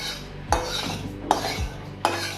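A metal spatula spreads oil around a dry kadai, making three sharp, close scrapes at a steady pace with no one talking.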